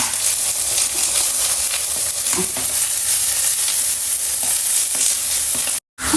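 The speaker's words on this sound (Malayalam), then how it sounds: "എണ്ണ നല്ല ചൂടായിട്ടുണ്ട്. സവാള ഇട്ട് കൊടുക്കുകയാണ്." Onions dropped into very hot oil in a pot, the start of a beef curry, giving a loud, dense, continuous sizzle and crackle that runs steadily throughout, with a brief cut to silence near the end.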